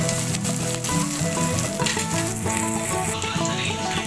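Pork sisig sizzles in a hot pan, a close and dense frying hiss with popping spatters and occasional rattling stirs, steady throughout with no talking.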